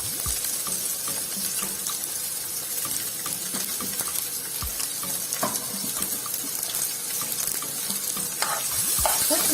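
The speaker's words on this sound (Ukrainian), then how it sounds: "Осмажуємо цибулю." Steady sizzling and crackling of onion frying in a pan for borscht, with occasional clinks and stirring noises, continuous throughout.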